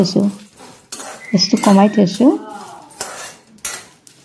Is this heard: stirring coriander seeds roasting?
yes